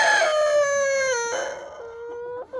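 A broody hen calls her chicks back to her during the first storm of the year, with drawn-out, falling, tonal cries close by that stop and restart, ending in a brief dip. No one speaks.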